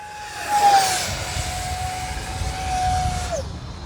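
A T-33 EDF RC jet with a 50 mm ducted fan makes a quick pass, its high, steady whine sliding slightly in pitch as it sweeps by and then drops away, loud and close over a breezy outdoor background.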